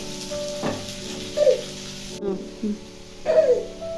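Chopped onion fries with ginger in a pan, giving a soft steady sizzle with a couple of stirring scrapes and brief bursts of voice sounds over it.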